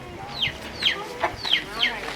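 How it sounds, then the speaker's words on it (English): Chickens cluck nearby in a village setting in Zimbabwe, with four sharp descending squawky calls spaced about every half second over a faint murmur of background voices. "Hey, chicken."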